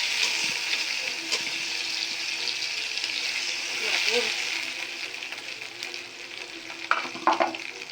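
Shrimp sizzling and frying in a hot pan, being stirred; a steady close crackle with brief clinks of the utensil near the end.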